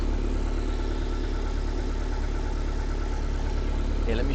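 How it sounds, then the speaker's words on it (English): A 1.6-litre K-Series engine in an MG TF idles steadily and smoothly, a close, even hum with no talking over it. "Not a bad sounding engine, to be honest."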